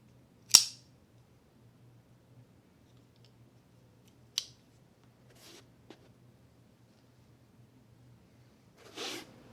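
A Benchmade assisted-opening knife, its blade fired by titanium leaf springs, snaps open with a sharp click. A few quieter clicks and a brief rustle follow in an otherwise silent room.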